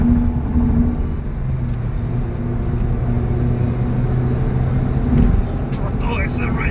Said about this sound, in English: Acceleration! Wow!